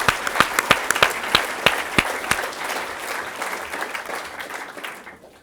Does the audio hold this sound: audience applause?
yes